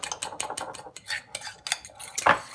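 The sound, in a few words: whisking banana cinnamon oat bran cake batter in a bowl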